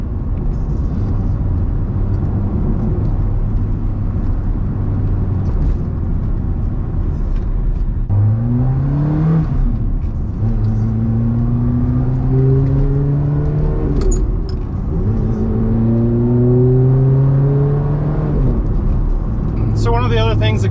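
A Ferrari F430 converted to a manual transmission drives along with a constant low road rumble, its engine note climbing in pitch through each gear and dropping at the shifts, several rising sweeps in a row.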